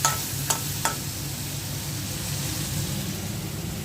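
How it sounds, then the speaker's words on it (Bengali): Shrimp bhuna sizzling in a pan with spices: a steady, soft frying hiss throughout, with a couple of faint clinks near the start. "চিংড়ি মাছ ভুনা বসিয়ে দিয়েছি"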